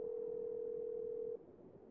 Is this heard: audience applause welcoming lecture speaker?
no